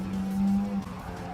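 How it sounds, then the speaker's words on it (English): Car tyres squealing through a corner in the Gran Turismo 7 racing video game, a steady, sustained squeal over the engine drone, loud and close, holding for under a second before easing. "You can really hear the tyres squeal and build up speed through there for this corner."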